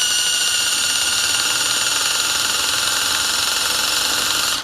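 Power drill tapping threads into metal with cutting oil, a steady loud high-pitched whir and grinding drone running continuously without pause before cutting off abruptly at the end.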